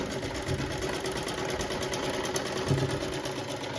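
Sewing machine running steadily at close range while stitching gum lace onto a chunni, a continuous buzzing mechanical whir with no voices.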